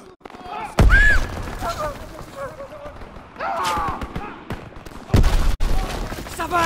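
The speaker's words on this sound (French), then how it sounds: "J'entends des coups de feu." Gunfire in Call of Duty: WWII during the Liberation of Paris mission: a few separated loud bursts of shots and impacts, with in-game voices speaking between them.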